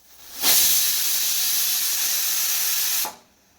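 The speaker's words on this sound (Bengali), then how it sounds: "এটা ফুটে গেলে তারপরে প্রেশার কুকারে ঢাকনাটা দিয়ে দেবো" A pressure cooker cooking pulao releases a loud, close burst of steam, a steady whistling hiss lasting about two and a half seconds that starts and stops abruptly, with no talk.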